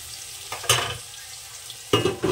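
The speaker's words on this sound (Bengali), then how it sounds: "আমি অনেক টাইম নিয়ে আলুটা সুন্দর করে ঢেকে ঢেকে ভাজবো" Potatoes cooking in a little water in a covered pan, a soft low simmering hiss broken by a few brief louder stirring or lid-moving bursts.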